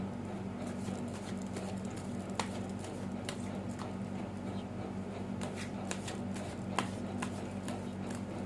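Quiet, close card shuffling for a tarot-style reading, soft riffling and light taps scattered over a low steady hum, with no voices.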